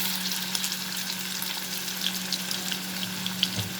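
Prawns fry in hot mustard oil in a karhai, giving a steady close sizzle with faint crackles and pops throughout.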